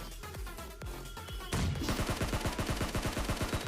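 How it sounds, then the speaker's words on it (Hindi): Gunfire in the mobile battle-royale game PUBG Mobile, a muffled burst of shots followed by a louder, steady rapid string of automatic fire coming from the front. "अब यहाँ से सामने की तरफ से फायरिंग आ रही होती है एक बंदे की"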